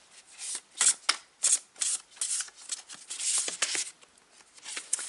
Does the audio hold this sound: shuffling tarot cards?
yes